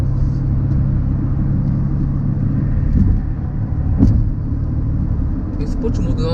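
BMW X5 (G05) gathering speed in sport mode, a deep, muted engine rumble and tyre drone holding steady inside the cabin while a person talks over it.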